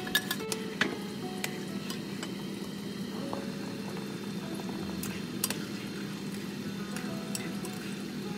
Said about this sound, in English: I like to cook it this way to make the beef a little bit brown